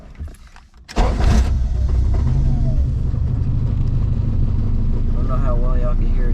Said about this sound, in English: it sounds like my flywheel is loose